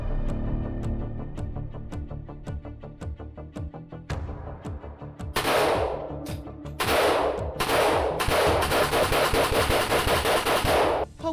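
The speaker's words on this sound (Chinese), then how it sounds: "要确定205厂的枪碰到水还能够打" Rifles made by Arsenal 205, test-fired after soaking in mud water, crack out in sharp single shots that build into loud, rapid automatic bursts outdoors, with no talking.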